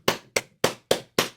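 Five sharp, evenly spaced claps ring out loud and alone, each with a quick decay, from a percussion clap in a song.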